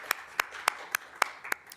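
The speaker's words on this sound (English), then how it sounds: "Let's clap." Sparse, evenly spaced claps ring out in a quiet council meeting room, about seven sharp slaps at a steady rhythm, close and distinct against near silence, like one or two people clapping.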